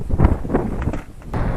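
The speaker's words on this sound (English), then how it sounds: "wind is definitely picking up, but it's still sporadic" Strong gusty outdoor wind buffeting the microphone in uneven low rumbling bursts, close and loud, with no talk.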